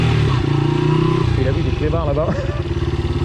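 A motorcycle rumbles close by while being ridden, with a loud, lumpy engine pulse that shifts in pitch as someone talks over it.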